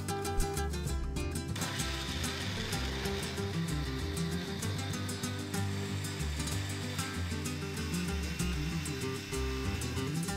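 A blender whirs loudly and steadily as it purees raw tomatoes, onion, garlic, chipotle chiles and water, a continuous motor roar with a grinding churn throughout.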